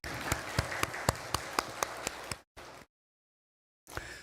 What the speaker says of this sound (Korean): 다시 한번 우리 큰 박수로 감사하겠습니다